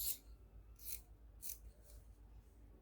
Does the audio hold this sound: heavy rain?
no